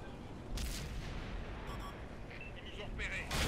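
A tank cannon fires in a tank video game: a booming shot rises out of a dense rumbling battle din, alone and fairly muffled, with another burst near the end.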